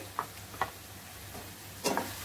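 Paya curry being stirred after chili and coriander powder go in, with a few sharp spoon clinks against the pan over a faint sizzle.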